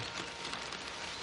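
Heavy rain pours steadily in a radio drama setting at night beside a house, a dense continuous hiss with no voices, filling the whole short stretch evenly.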